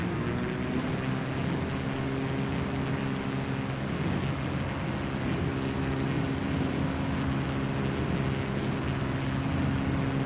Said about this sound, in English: Just taxiing down the runway.